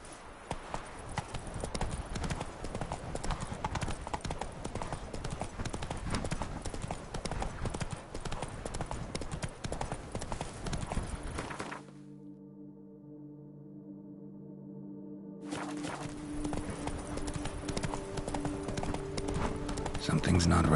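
Hoofbeats of Geralt's horse Roach in The Witcher 3 clip-clop steadily and loudly through most of the stretch, drop out briefly into a low droning hush, then resume near the end.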